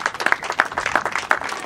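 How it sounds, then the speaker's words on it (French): Applause at a celebration of Côte d'Ivoire's 61st independence anniversary in Meaux, with a crowd clapping in uneven, moderately loud bursts for under two seconds. "Et ça mérite des applaudissements de la part de tous les Ivoiriens"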